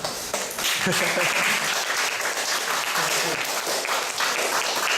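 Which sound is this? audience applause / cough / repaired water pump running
audience applause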